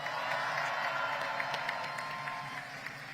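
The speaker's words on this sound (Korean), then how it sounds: "박수 부탁드립니다." A crowd at a political rally in Andong applauds steadily, a dense wash of many hands clapping together, loud and continuous throughout.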